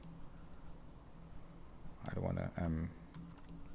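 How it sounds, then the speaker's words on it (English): A few quiet clicks come from someone typing on a computer keyboard and pressing the H key. They sound against a low background, and a voice briefly overlaps them partway through. "I'm just hitting H on the keyboard right now"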